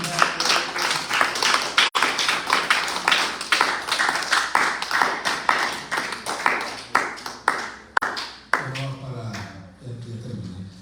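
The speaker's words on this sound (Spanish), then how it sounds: "Un fuerte aplauso al Señor." A church congregation claps loudly and rhythmically in strong unison beats that gradually thin out and slow, then a voice begins speaking as the clapping fades.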